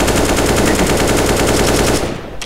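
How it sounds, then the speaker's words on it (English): Rapid automatic gunfire in a video game, a loud unbroken burst of closely spaced shots that fades out abruptly near the end. "Nah, Otsin is just shooting."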